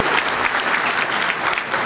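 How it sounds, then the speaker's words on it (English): A crowd at a celebration evening claps in a brief, loud, dense burst of applause that stays steady and close throughout. "so just a round of applause for her"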